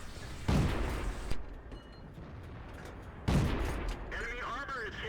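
Heavy tank-game gunfire and artillery booms from World of Tanks on the Malinovka map: two loud blasts with long rumbling tails, separated by a few seconds, over constant battle noise.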